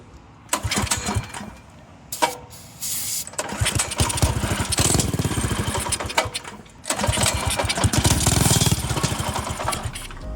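A homemade free-build motor vehicle's engine starts for the first time: short cranking attempts, then the small engine catches and runs in loud, rough, rattling bursts with revving and brief dips between them.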